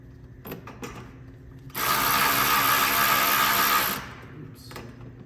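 A power tool drives a splash guard bolt with a fender washer back into a 2018-2022 Jeep Wrangler JL, with a loud, steady buzzing whir lasting about two seconds, bracketed by a few light clicks close by.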